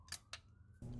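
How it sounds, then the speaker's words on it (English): A ratchet tightening a spark plug on a 2004–2012 Chevy Colorado or GMC Canyon gives two quick, faint metallic clicks close by, followed by a soft low rustle. "tighten it with the ratchet"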